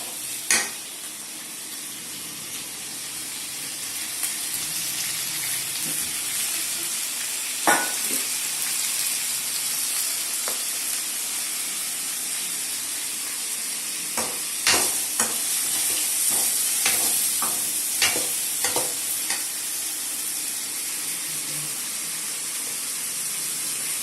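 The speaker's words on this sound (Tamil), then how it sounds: "இப்போ அதை நல்லா வதக்குறோம்." Potato and eggplant sauté in a kadai under a steady sizzle, with scattered clacks and scrapes of a spatula stirring the pan, growing busier midway, and no voices.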